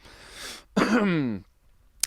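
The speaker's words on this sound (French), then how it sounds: "C'est d'une toux sauvage." A breathy inhale, then one harsh, rasping cough from the throat, close and fairly loud, followed by quiet.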